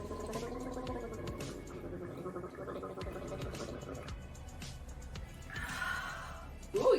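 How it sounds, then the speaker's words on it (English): A person gargles water on one side of the throat, a steady bubbling rattle lasting several seconds, close and alone, with a brief louder splash near the end. "so I'm gonna gargle in the right."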